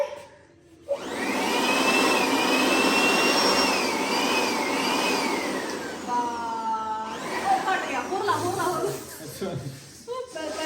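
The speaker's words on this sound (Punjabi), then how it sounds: "ਬਲੋਰ ਪਤਾ ਕਿ ਕੀ ਕੰਮ ਆਉਂਦਾ ਅਸੀਂ ਟਰੈਕਟਰਾਂ ਦੇ ਫਿਲਟਰ ਸਾਫ ਕਰਦੇ ਇਹਦੇ ਨਾਲ" A loud, steady air blower used to clean tractor filters roars close by with a whining pitch that wavers, then cuts off into voices and laughter.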